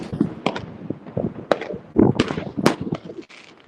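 New Year's Eve fireworks in Spain crack and thump in a rapid, irregular string of sharp bangs, some close and loud, others softer, with no talk.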